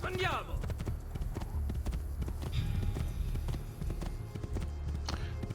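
A horse's hooves clip-clop in a steady rhythm in Assassin's Creed II, with close, continuous hoofbeats under someone talking.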